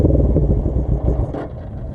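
A Suzuki GS450 motorcycle engine with the choke half on runs close and loud with a rough, uneven low rumble, its pulses stumbling and dipping partway through as it struggles to idle.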